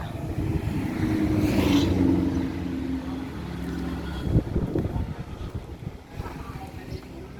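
A 2021 Kubota L4018SP tractor's engine rumbles steadily as its front loader lifts, with a clunk midway, while someone talks over it.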